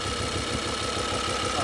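An Audi RS6 engine idling after a cold start, a steady close, even drone with a faint rhythmic pulse running throughout, no other sounds over it.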